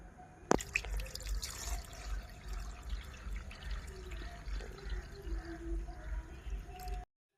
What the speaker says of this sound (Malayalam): ഇതിൻ്റെ ലീഫിൻ്റെ മുകളിൽ വരത്തക്ക വിധത്തിൽ വെള്ളം ഒഴിക്കുക